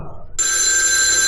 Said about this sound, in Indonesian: telepon itu berbunyi.